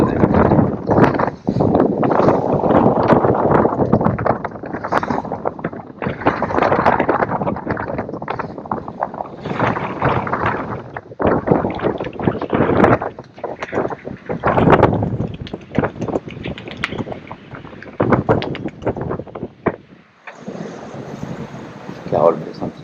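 Strong crosswind buffets a sailboat at sea, a loud continuous rush of wind noise and water across the whole stretch with brief lulls, fairly close and steady.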